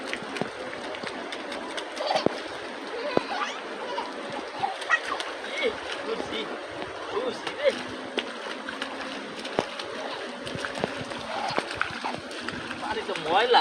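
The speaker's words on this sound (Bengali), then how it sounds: "বাইরে গিয়ে দেখলাম প্রচণ্ড বৃষ্টি আর চারদিকে মেঘাচ্ছন্ন হয়ে আছে" Heavy rain on a rooftop with water splashing and sloshing continuously, dense and fairly even with scattered sharper splashes, while people talk over it.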